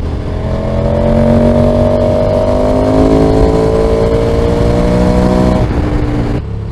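A motorcycle rides along an open road, its engine droning loud and close with a steady pitch that climbs slowly, then drops off sharply near the end as the throttle closes, with wind rush throughout.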